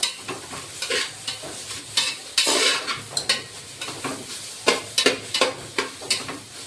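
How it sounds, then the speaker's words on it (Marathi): Grated coconut roasting in a pan while being stirred, with rhythmic scraping strokes of a spoon against the metal over a light sizzle, close and steady, no talking. "आधी खोबरं घालून घेऊया आणि पूर्ण त्याला हलवून हलवून एक एकजीव करूया"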